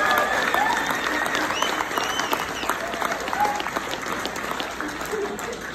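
Sustained applause from a crowd at a Navy and Marine Corps birthday ball, a dense steady clapping that fills the room and slowly tapers.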